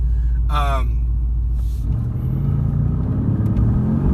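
A 2018 Mercedes-AMG GT R engine and exhaust give a deep, heavy rumble that builds as the car pulls away, loud and close, with a short burst of voice near the start.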